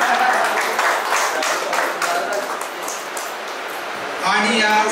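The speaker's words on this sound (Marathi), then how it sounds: "पांडूसाठी जोरात टाळ्या वाजवा." Loud applause from a crowd at a high school get-together in Sarvade as a prize competition honoree is recognised, dense clapping that stays steady throughout before dipping slightly and swelling again at the end.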